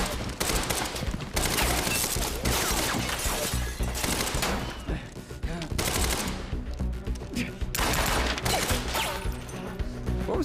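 Sustained rapid gunfire from the video game Quantum Break, dense bursts of automatic shots and shattering impacts filling the whole stretch, loud and continuous with brief dips between volleys.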